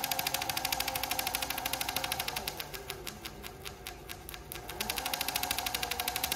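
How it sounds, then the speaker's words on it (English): A JUKI MF-7923 three-needle industrial sewing machine stitches sport neoprene with a quiet, rapid, rhythmic clatter. The stitching slows or eases in the middle, then picks back up to a steady pace. "I'm gonna sew a neoprene with this, just to show you guys how beautiful this machine shows"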